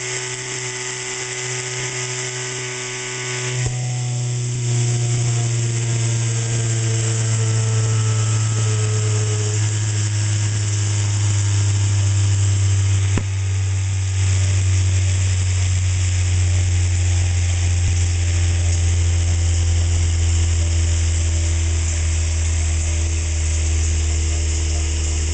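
A see-through oil centrifuge spinning up while filtering waste vegetable oil gives a steady mechanical hum and rising whine that settles into a constant loud drone, with a faint ticking click partway through.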